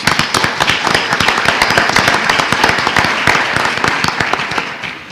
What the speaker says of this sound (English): Nice round of applause for this, folks.